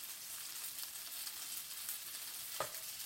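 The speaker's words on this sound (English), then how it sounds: "And I suppose I just kind of mix it around." Potato-starch noodles for japchae being stirred with soy sauce in a pan, giving a steady, fairly quiet sizzling hiss with a brief scrape of stirring near the end and no talk.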